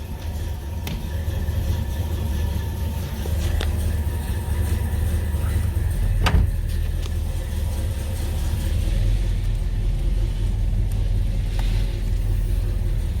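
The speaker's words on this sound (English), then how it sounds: "All right, so let's fire it up. Move it out of the garage." A Nissan Skyline runs nearby in a garage, a steady low engine rumble that holds throughout, with a few faint clicks and one brief sharp knock in the middle.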